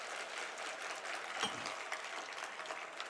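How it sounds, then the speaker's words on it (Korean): A church congregation breaks into brief applause during a sermon, a soft, scattered patter of clapping that swells slightly midway and stays fairly faint throughout. "박수 치려면 확 쳐버려"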